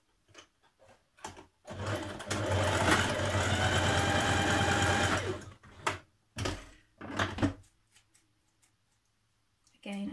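A domestic sewing machine stitches across the end of a knit cardigan in one steady, loud run of a few seconds, followed by short separate bursts and handling clicks.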